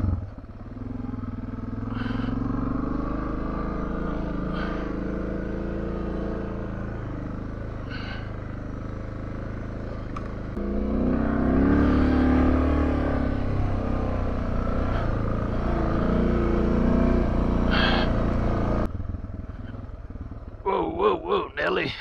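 A motorcycle rumbles through deep, silty, loose sand that rides like a beach, its engine droning steadily and surging louder midway. A rider talks over it, and there is some clatter near the end.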